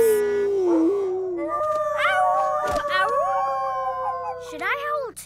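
Cartoon dogs howl together in long, wavering, tuneful calls that rise and bend in pitch, several voices overlapping loudly and close in a playful animated scene.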